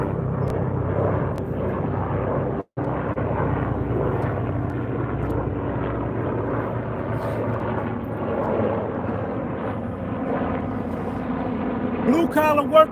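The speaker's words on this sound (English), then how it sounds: "That helicopter right there." A helicopter flies overhead, its broad low engine and rotor drone steady and fairly loud for the whole stretch with one brief dropout, while someone talks over it.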